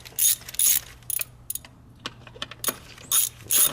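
A ratchet loosening valve cover bolts on a 2005 Ford Focus, producing bursts of quick, crisp clicking in several separate turns with short pauses between them, close and fairly loud.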